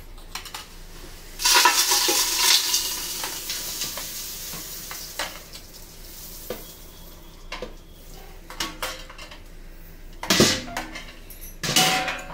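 Dry homemade spice powders and salt poured and shaken into a metal can in a home kitchen, giving bursts of gritty rattling and scraping with small clinks, louder around the middle and near the end.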